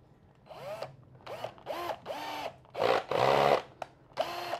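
A power screwdriver drives screws into a wooden clothes drying rack in a series of short, close whirring bursts, each rising and falling in pitch, with brief pauses between them.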